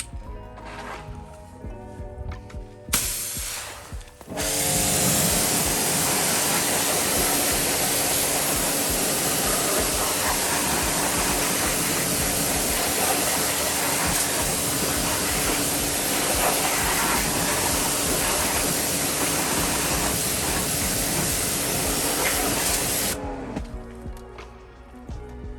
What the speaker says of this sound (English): There was also a guy scraping his driveway throughout this whole video.